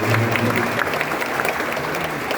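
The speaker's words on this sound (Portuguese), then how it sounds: "eu peço uma salva de palmas para os vereadores e vereadoras" Applause for city councillors inside a municipal chamber during a newly elected mayor's speech, a steady crowd clapping throughout, with low voices murmuring beneath it.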